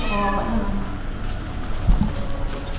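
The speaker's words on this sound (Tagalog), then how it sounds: "dami naman pusa na to" Several cats meow loudly at close range, their cries overlapping in a short, insistent run.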